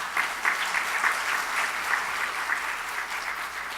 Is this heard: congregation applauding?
yes